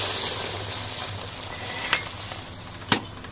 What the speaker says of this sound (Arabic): رجعنا لكم تاني بعد ما اللحمه خدت تشويحه كده في الزبده. هننزل بميه سخنه كده اهو